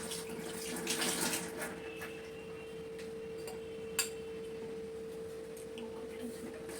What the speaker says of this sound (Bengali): নারকোলটা একটু ধুয়ে নিলাম